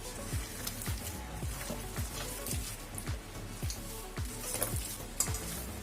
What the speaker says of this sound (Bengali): এইবার এটাকে আমি ভালো করে একটা মিশ্রণ তৈরি করে নেবো মেখে